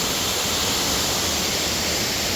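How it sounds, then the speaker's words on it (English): Heavy water pouring over a waterfall in the Path of the Titan game, heard as an unbroken, loud broadband roar that stays even and steady from start to end. "You see the waterfall there's a lot of water in it."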